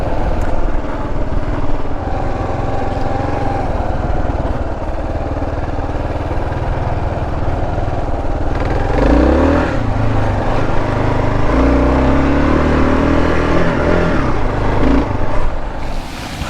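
A Kawasaki KLR 650 motorcycle rides along an ATV trail, its engine droning steadily and close throughout, with throttle rises and shifts in pitch partway through and no talk over it.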